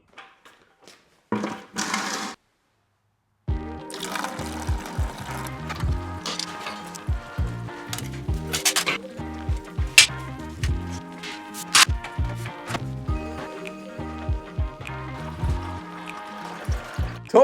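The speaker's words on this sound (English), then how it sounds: "We're gonna pop that ball valve underneath. I'm gonna get this drained out and cleaned up" Dirty water drains from a plasma cutting table through an opened ball valve underneath, a close, uneven gush and trickle with gurgling pulses and splashes that keep changing after a brief start and a short pause.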